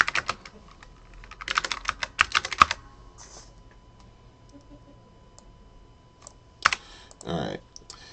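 Quick bursts of computer keyboard typing, rapid clustered key clicks with pauses between them, close and fairly clear.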